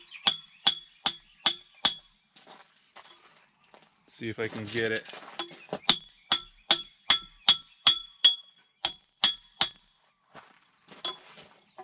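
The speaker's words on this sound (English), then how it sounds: "the tooth is gonna fit tight, so I'm gonna hammer it on." Ringing metal-on-metal hammer strikes driving a tight-fitting tooth onto an excavator ripper attachment, in steady, evenly spaced runs, interrupted by a brief spoken remark before the pounding resumes close by.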